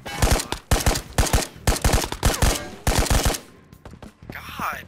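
Rapid automatic gunfire from the VR shooter Ghosts of Tabor, loud and close, coming in several sharp bursts over about three seconds and then stopping, followed by quieter movement and a faint distant whine.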